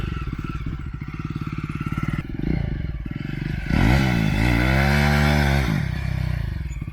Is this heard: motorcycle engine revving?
yes